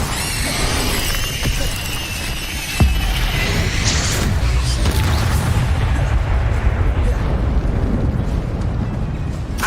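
Incendio fire spell cast in Hogwarts Legacy, a loud roaring whoosh of flame with crackling, shattering texture and a sudden thump partway through, sustained and dense throughout.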